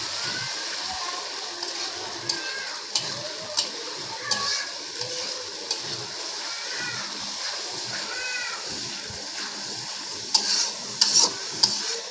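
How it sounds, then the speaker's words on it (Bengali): Spices with onion, cumin paste and tomato frying in a pan for a boal fish curry: steady sizzle, repeated stirring scrapes and occasional sharp utensil clinks, moderately close, with no talk. "আমি মশলাগুলোকে একটু ভালোভাবে ভেজে নিচ্ছি"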